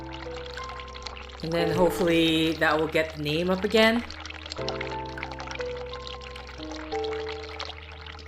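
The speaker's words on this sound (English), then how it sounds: "Let's turn on the hot water again." Hot water running from a bathroom tap in The Cat Lady video game, a steady rush of pouring water under a man's speech, then continuing with background game music tones.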